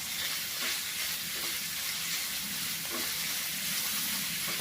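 Onions with a little salt fry and wilt in a pan, giving a steady, close sizzle with a faint broad hiss and occasional soft stirring scrapes, alone without talk.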